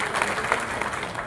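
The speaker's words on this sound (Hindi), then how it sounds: "तालियां बजाकर स्वागत करें।" Audience applause welcoming guests at a public inauguration event, a dense, steady patter of many hands clapping for the whole short stretch.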